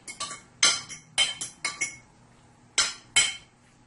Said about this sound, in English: I am going to transfer my eggplant into a bigger dish here, so I can mix it properly.